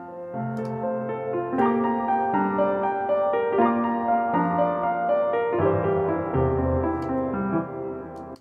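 A sequence of sustained piano chords changes every second or so, smooth and unhurried, played alone with no voices.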